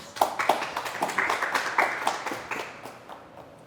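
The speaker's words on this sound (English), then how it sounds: "So can we give them a round of applause, please?" Audience applause at a business panel event, a scattered round of clapping with individually distinct claps in quick succession, moderately close, thinning out toward the end.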